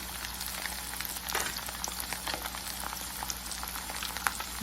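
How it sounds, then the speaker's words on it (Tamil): Five salmon pieces frying in hot oil for a Coimbatore-style fish fry, a dense, continuous crackling sizzle with scattered pops, close and steady throughout with no talking. "எண்ணெய் காய்ஞ்சிச்சு. ஒவ்வொரு மீனாக போடலாம். ஒரு 5 மீன் போட்டுருக்கேன்."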